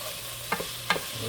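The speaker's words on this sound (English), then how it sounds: "Let this sizzle for just a minute." Chuck beef and vegetables sizzle in a pot under a steady hiss, with two quick scraping stirs standing out close and loud against the frying noise.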